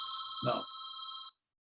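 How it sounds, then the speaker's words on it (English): A mobile phone rings during a talk, a steady electronic double-tone ring at moderate level that cuts off abruptly, with a brief spoken word over it. "that's my phone ringing. I thought I turned it off,"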